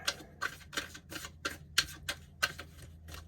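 Tarot cards being shuffled in a series of about ten quick, crisp riffling flicks at a steady rhythm, fairly close and with no voices.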